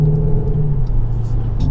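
Interior of a Mercedes W213 E350d diesel coasting with downshifts: a steady low engine and road rumble fills the cabin, with faint brief rises as gears drop, no talking.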